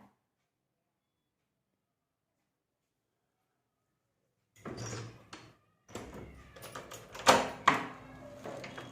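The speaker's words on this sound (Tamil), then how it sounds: "மா லைட்டாக தரமா கதவை." A door opens after a long stretch of silence, with rattling, scraping and knocking noises that build to a louder clatter, then fade off.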